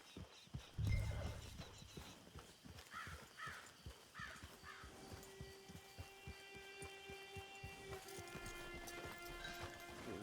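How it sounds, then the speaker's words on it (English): A horse in Red Dead Redemption 2 near camp, hooves clip-clopping in a steady close rhythm with some shuffling movement, crows cawing around it and a loud thump early on, no talk. "It's your horse."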